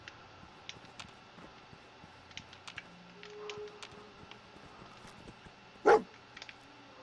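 Dog companion in Fallout 4 giving a few faint barks and yips amid quiet game ambience and light clicks, with one louder sharp bark near the end, and no talking.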